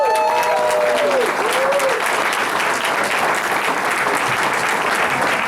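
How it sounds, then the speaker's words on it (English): Sustained audience applause fills a caucus meeting hall at a Los Angeles Democratic convention, dense and steady throughout, with a brief voice-like tone near the start. "No, he deserves a better applause than that."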